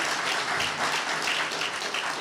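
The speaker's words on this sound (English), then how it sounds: "let's give Dave a round of applause" An audience at a high school athletic hall of fame induction ceremony applauds for an inductee, a sustained wash of many hands clapping in a hall.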